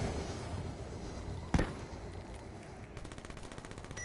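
A flashbang grenade going off in a shooter video game, one sharp, loud bang partway through over a noisy background of game sounds, followed by faint rapid ticking.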